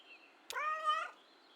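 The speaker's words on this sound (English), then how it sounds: "Assertive meow." A single clear, drawn-out cat meow in the video game Kentucky Route Zero, close and fairly loud, rising then falling over about half a second against a quiet background.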